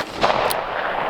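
A single loud, close report from a revolver fired single action, a sharp blast with a short outdoor echo decaying afterward.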